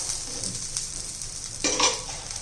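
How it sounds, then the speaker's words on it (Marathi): Bajra flour chila frying on a pan, a soft steady sizzle that swells into a louder hiss as oil is drizzled on top, with light scraping, close and without talk. "थोडंसं वरून तेल सोडायचं"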